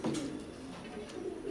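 Teddy pigeons, crested golden birds, cooing in a low rolling murmur that swells and fades in continuous soft phrases close by.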